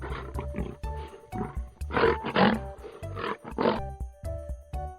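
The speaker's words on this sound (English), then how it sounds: "Lion is a wild animal." A lion roars in a series of loud, rough bursts, several swelling calls with short pauses between them, heard alone and close up.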